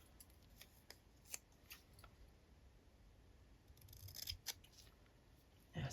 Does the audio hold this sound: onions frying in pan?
no